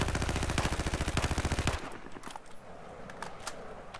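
Rapid automatic gunfire from a rifle fitted with a heavy barrel in Battlefield 4, a loud continuous burst of closely spaced shots that stops abruptly, leaving a fading echo and a few faint clicks.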